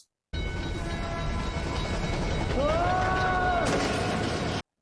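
A train rumbles along a railway track in a steady, loud roar, with a brief horn-like tone rising near the end before the sound cuts off.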